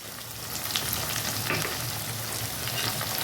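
Spices with Kashmiri red chili powder stirred in hot oil for Bengali tel koi fish curry, giving a dense, continuous frying hiss with faint scraping underneath, close and steady, no voices.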